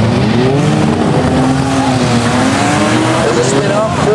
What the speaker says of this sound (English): There's a spin up, 402 Albie Jenner getting taken out